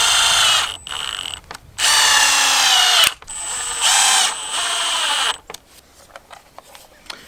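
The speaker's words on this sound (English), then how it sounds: "The solar panel just threads onto here." A solar panel mount is screwed by hand onto a Eufy 4G LTE S330 security camera, giving close, loud bursts of clicking, ratchet-like threading that start and stop several times, then fade into quieter handling noises.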